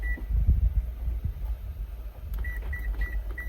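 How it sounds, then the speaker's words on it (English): Kitchen timer on a stove being set while cooking scallop pasta, giving a short beep then a run of four quick, clear electronic beeps near the end over low kitchen rumble. "So I'm just gonna go ahead and put on my timer."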